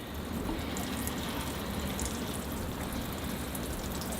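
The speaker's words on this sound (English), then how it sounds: "Now I'll get these forests watered down here." Water splashing from a watering can onto small bonsai forests of larch, cedar and thuja in winter pots, a steady close wash of spray lasting throughout with no pauses.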